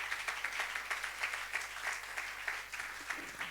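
A church congregation applauds the choir, steady rhythmic clapping with regular accents running throughout, moderately faint and without talk over it.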